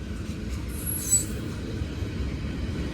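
A BNSF train of grain cars runs by on the left track near Mulvane, Kansas, giving a quieter continuous rumble with a brief high squeal of wheels rising midway.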